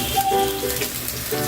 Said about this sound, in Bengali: তো এটাকে আমি 2 থেকে 3 মিনিট হালকা একটু ভেজে নিব